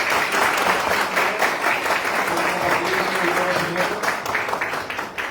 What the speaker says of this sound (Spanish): Ok, un aplauso para el ingeniero Rosa.